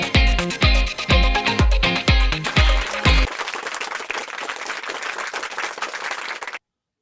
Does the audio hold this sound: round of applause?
yes